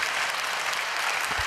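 Audience applause in a church during a Korean sermon, a steady wash of clapping from a congregation that carries evenly through the whole short stretch.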